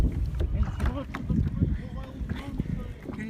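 A kayak being paddled along the St. John's River behind another paddler, with soft water swishes and splashes mixed with wind buffeting the microphone, while voices talk quietly throughout.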